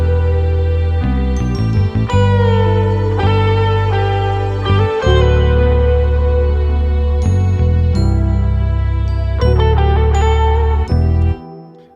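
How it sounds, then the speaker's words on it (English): A bell sound layered into a hip-hop beat sample, ringing tinkly tones sitting over deep bass notes in a loud, continuous loop that cuts out abruptly at the end. "we added this bell sound just for the background, just to add a bit of more texture to the sample"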